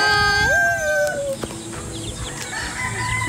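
Chickens and roosters at a farm poultry house, clucking and a drawn-out crow rising over steady barnyard background, fairly close and loud.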